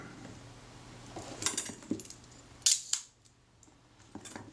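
A camera shutter fires with a couple of crisp mechanical clicks and snaps against a quiet background.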